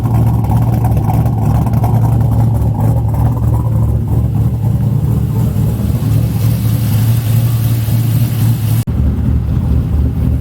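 A 4.8 LS V8 swapped into a Mazda Miata idles loudly and up close, a deep steady rumble with slight unevenness as the idle dips, cutting out briefly near the end before resuming.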